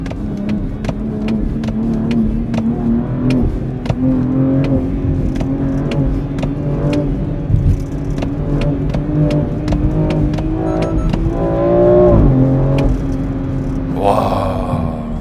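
A BMW X3 M mid-size SUV in Sport Plus mode revs its engine repeatedly in sharp, rhythmic bursts over a steady droning exhaust, building to a louder surge near the end, close and prominent.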